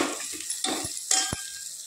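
Tadka spices sizzling in a hot pan while a metal spoon clinks and scrapes against it a few times, close by and without speech.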